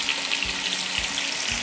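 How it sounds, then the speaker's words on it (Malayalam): Fish sizzling as it fries in hot oil in a pan over a high flame, a steady bright crackle and hiss with a few soft low thumps, no voices. "നമ്മൾ മീൻ എടുത്തിട്ട് നമ്മൾ ചൂടായ ആ എണ്ണയിലേക്ക് ഇട്ടിരിക്കുകയാണ്."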